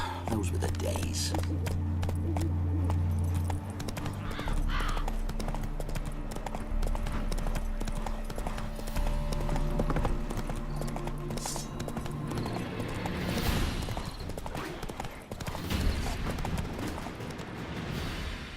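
Horse hooves clip-clop steadily in The Witcher 3: Wild Hunt, mixed under game music and voices for the whole stretch, with a possible whinny near the middle.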